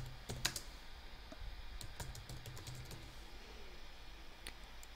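Keys tapped on a computer keyboard while entering a folder name, a scattered run of light, close clicks over a faint background hiss, with no talking.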